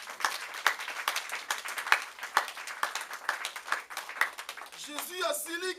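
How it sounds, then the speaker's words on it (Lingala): Church congregation clapping in a rapid, even rhythm, fairly faint and distant, with voices mixed in and a brief shout near the end. "Est-ce que tu peux acclamer le Seigneur"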